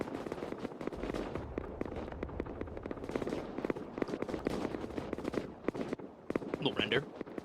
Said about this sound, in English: They are circling them right now with cannon fire, ready to take them out.